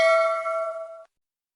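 A single bright notification bell ding rings out alone, clean and fairly soft, and fades away within about a second into silence.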